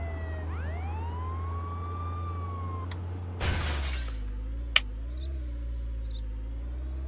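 In the Contraband Police video game, a police car siren wails in rising sweeps and then cuts off abruptly, followed by a harsh crash, a sharp click, and a steady low engine drone underneath.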